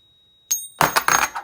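American Silver Eagle silver coins dropped onto a hard surface: one sharp ringing hit, then a close, loud burst of jangling metallic clatter as they bounce and settle.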